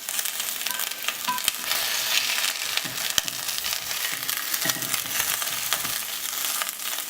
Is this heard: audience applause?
no